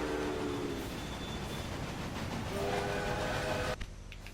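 Iron Duke steam train running in the Railway Empire video game, with a steady loud rumble of rolling wagons and whistle tones sounding over it before the noise cuts off near the end.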